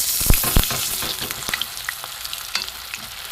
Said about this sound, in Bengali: কিন্তু আমি সর্ষের তেলেই ভাজছি